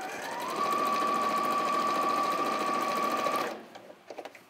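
Sewing machine running steadily through thick fabric, a continuous near buzz of stitching that stops abruptly near the end, followed by a few small handling clicks.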